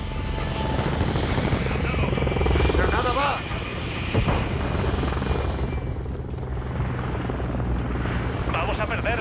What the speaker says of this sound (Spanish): Helicóptero de apoyo aliado en la zona.